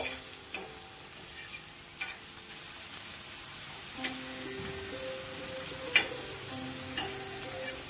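Chopped capsicum sautéing in butter in a pan for masala pav sizzles softly and steadily, with occasional scrapes and clinks of a spoon stirring.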